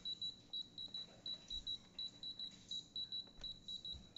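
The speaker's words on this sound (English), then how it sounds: "All right, so the timer's going off here." Breville Dual Breakfast Sandwich Maker timer beeping, a rapid series of short, high electronic beeps in a regular pattern, fairly quiet and close, with no talking.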